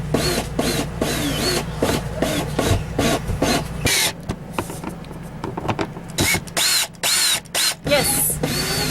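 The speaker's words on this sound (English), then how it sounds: "All I have to do to secure this outlet is to tighten these screws down." A screwdriver tightens screws to secure an outlet in an RV, short grinding and ratcheting bursts in a stop-start rhythm, close and fairly loud.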